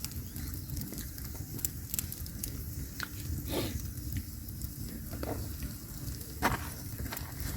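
A campfire in the springtime Siberian taiga crackles and snaps with irregular sharp pops over a low, steady hiss, heard close and fairly soft, with no talking.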